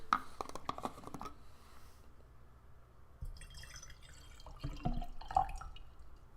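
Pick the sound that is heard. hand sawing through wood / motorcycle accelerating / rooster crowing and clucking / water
water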